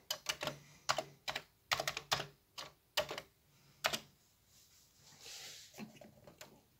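Quick bursts of keystrokes on a Commodore computer keyboard as a BASIC program is entered, sharp clustered clacks in uneven rhythm with short pauses, close and clear with no talking.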